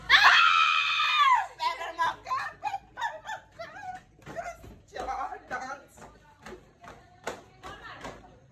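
A loud, shrill group scream bursts out at the start, followed by a string of excited voices shouting and talking over one another at close range.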